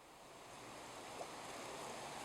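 Water drained off soaked pellet expanders in a tub, a steady close pouring and splashing wash that holds at an even level throughout.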